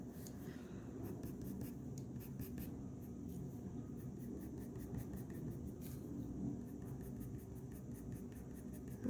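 A Derwent Procolour colored pencil shading a brown hair drawing on paper, giving a steady, close, soft scratchy scribbling that runs continuously with no talking.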